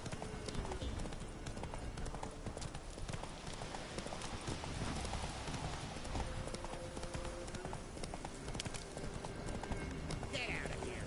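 Geralt's horse Roach in The Witcher 3: Wild Hunt gallops with a continuous quick drumming of hooves, mid-distance and fairly soft, blended with game ambience and music.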